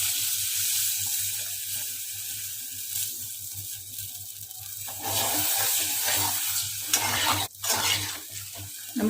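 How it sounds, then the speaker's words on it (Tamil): Water poured into a pot of sambar with drumstick and brinjal cooking, a broadband rushing wash that swells partway through over a low steady hum, with a couple of clattering knocks near the end; no talking. "இப்போ தேவையான அளவு தண்ணி ஊற்றிடலாம்"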